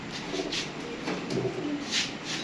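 Kept pigeons coo close by in soft, throaty rolling calls, several bursts repeating one after another, with no voices in between.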